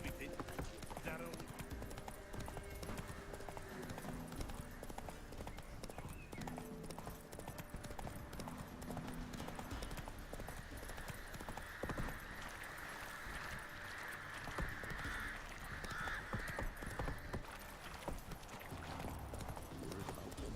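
Roach the horse galloping in The Witcher 3, with fast, steady hoofbeats that carry on without a break under game music and character talk.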